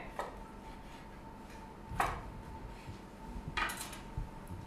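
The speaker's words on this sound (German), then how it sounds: "Dann teilen wir uns den Fisch in drei Stücke." A knife cutting a fish into three pieces in a restaurant kitchen, with a few sharp, faint taps and clicks against the board spaced seconds apart over quiet background, no talking.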